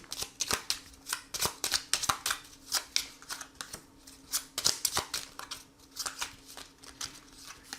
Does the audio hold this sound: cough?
no